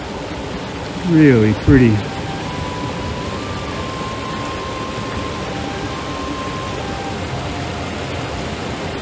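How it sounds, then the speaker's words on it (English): Steady broadband rush of a mountain creek flowing right beside a hiking trail near Jewel Lake in Rocky Mountain National Park, continuous and fairly loud throughout, with a brief spoken remark early on. "I've been hearing the creek. Here it is, right next to the trail."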